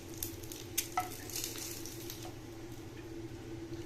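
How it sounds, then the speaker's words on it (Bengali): Eggs frying in hot oil in a pan for a mustard egg curry, giving a steady close sizzle throughout with a few sharp crackles and light stirring scrapes. "ডিমগুলোকে ভেজে নিলাম, নিয়ে ডিমগুলোকে আলাদা সরিয়ে রাখলাম"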